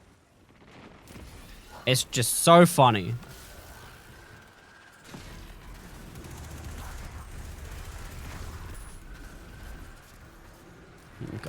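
Video game explosions come in a loud burst of blasts and crackling around the two-to-three second mark, then a lower rumbling bed of action continues. A voice speaks briefly over the scene.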